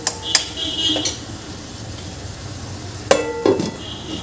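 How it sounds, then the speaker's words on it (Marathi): A metal lid clinks onto a pan of bitter gourd and potato curry, a few sharp close clanks at the start and again near the end over a low steady background hiss. "आता याला आपण परत झाकून ठेवून घेऊ."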